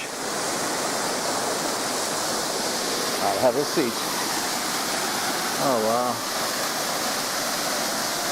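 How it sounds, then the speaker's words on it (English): Two waterfalls roar steadily in South Africa, a broad continuous rushing wash heard from a bench nearby, while someone speaks briefly over it. "2 waterfalls."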